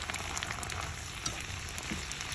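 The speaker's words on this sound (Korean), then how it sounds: "파프리카는 색깔별로 소금 후추 넣고 센불에 볶아주세요." Bell peppers stir-frying with salt and pepper over high heat for japchae, a steady faint sizzle with light crackles and soft stirring, alone without talk.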